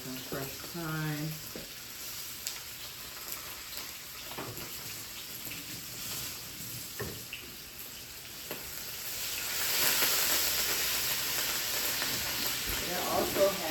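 Pompano fish pan-searing with fresh thyme, a continuous close sizzle and spatter that swells louder toward the end, with a short burst of voice near the start.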